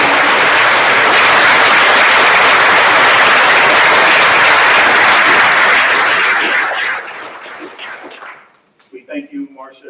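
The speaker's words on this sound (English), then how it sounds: "Let's give another round of applause." Sustained audience applause fills a hall during a Montgomery County, Ohio state-of-the-county address, loud and dense for about seven seconds before fading out, followed by a few faint, brief sounds.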